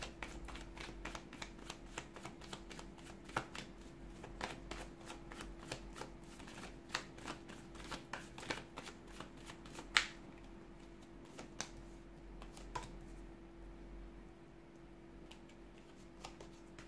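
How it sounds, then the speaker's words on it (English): Tarot cards being shuffled close up, a quiet series of crisp riffling clicks and flicks in an irregular rhythm, with no talking. "give the cards a shuffle"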